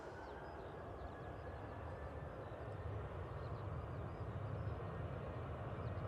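A Ryanair jet departing from runway 05 left at Manchester Airport, its broad distant engine roar holding steady and rising slightly throughout, with no talk over it.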